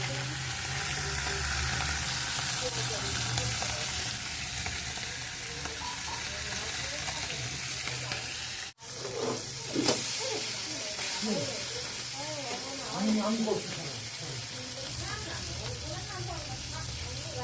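Fish sizzles steadily in hot oil in a pan, a constant close hiss with occasional bubbling and crackle, and a voice speaks quietly partway through.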